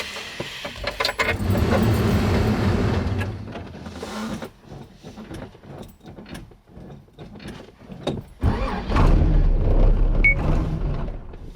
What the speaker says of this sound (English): we're ready for our very first cold start